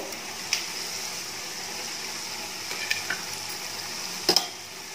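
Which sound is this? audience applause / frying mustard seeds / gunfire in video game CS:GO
frying mustard seeds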